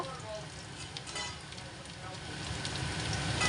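Onion with garlic, ginger and cumin pastes frying in a pan for a sour fish curry with raw mango, a steady close sizzle that swells gradually louder, with no talking.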